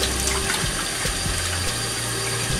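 Tap water runs steadily onto a makeup brush caked with powder at a bathroom sink, a continuous close splashing and gurgling flow with a low rumble beneath, no talking.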